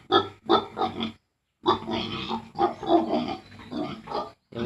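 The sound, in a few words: pig grunting on a farm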